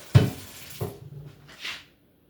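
Callaloo greens are washed in a bowl of water, with a few brief close splashes and sloshes spaced apart and no talking.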